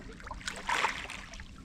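Waves washing in over slippery rocks along a sea shore, a steady close wash and splash with a brief louder surge in the middle.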